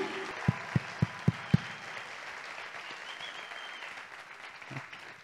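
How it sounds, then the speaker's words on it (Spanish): Five loud, evenly spaced claps ring out close by before a softer, steady applause from an audience continues in the background, fading toward the end. "con un aplauso grande, Julián, Juli."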